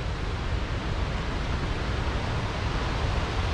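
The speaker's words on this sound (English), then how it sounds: "We have rushing waters near us, and you can hear it." Glacier-fed waterfall water rushes nearby in Grand Teton National Park, a dense, steady broadband roar with no breaks or voices.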